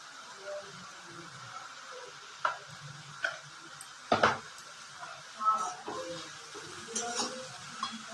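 Butter sizzling in a pan as vegetable roll filling is sautéed, a soft steady fry under intermittent utensil taps and stirring clinks, while someone talks over it.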